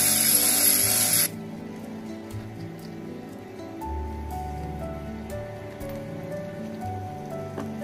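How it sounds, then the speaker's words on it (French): A piece of stained glass for a Tiffany-style window is ground to fit against a blue piece, giving a brief loud gritty whir at first, then a softer scraping and rubbing with a low hum continuing quietly. "Il va falloir que je meule ici pour épouser ma pièce bleue."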